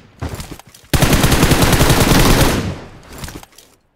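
Rapid automatic gunfire from a LynX AMR rifle in the Free Fire video game: a dense, loud sustained burst of about a second and a half, with shorter bursts of shots before and after it, close and with no talk.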